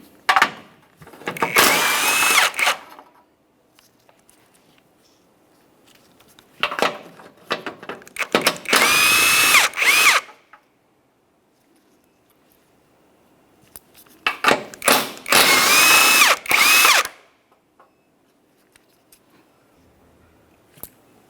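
Power tool running a front bumper bracket mounting bolt back into its threads on a 2012-2015 Honda Civic, three separate bursts of a couple of seconds each, close and loud, with quiet gaps between.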